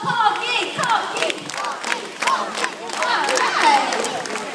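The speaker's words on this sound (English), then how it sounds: "You clap your hands and you go Cocky, Cocky." A crowd at a bird competition in Jurong claps and chants a bird's name together, a loud, steady mass of mixed voices with rhythmic clapping throughout.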